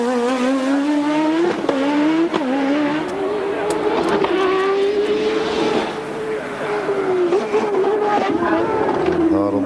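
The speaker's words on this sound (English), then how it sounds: "Hard on the brakes at the last hairpin and then on to full power down the pit straight." A 1986 Formula 1 car with a BMW engine brakes hard at the last hairpin during Australian Grand Prix qualifying, then screams up to full power down the pit straight. The loud, continuous engine note is broken by sharp downshift blips.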